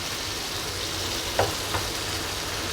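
Spices for a Pabda fish curry sizzling in oil with a splash of water, a dense steady frying hiss broken by two soft scrapes of a stirring utensil, close and alone.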